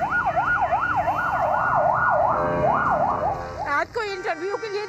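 Ambulance siren wailing in a repeating up-and-down sweep amid congested city traffic during street protests, fairly close and loud, cut off toward the end by a brief chirping yelp; engine and road noise run underneath.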